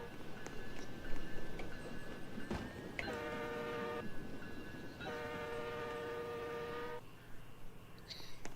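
A train in the Roblox video game passes with a rumbling roll and two long blasts of its multi-tone horn, fairly faint, with no talk over it.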